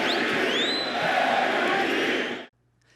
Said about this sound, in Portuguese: Antes do jogo, as luzes se apagaram e a torcida gritou MVP